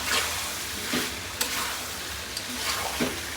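Garlic paste and chicken sautéing in a pan, a steady sizzle broken by stirring scrapes and a few sharp clicks of a utensil against the pan, close and unaccompanied by talk.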